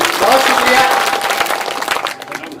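A brief burst of audience clapping at a Hindi poetry recital (mushaira) in Raipur, dense at first and then thinning out, with voices mixed in.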